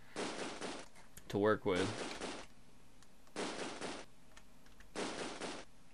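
Bursts of machine gun fire in the war strategy video game Close Combat, three or four rattling volleys spaced apart, moderately loud, with someone talking briefly between them.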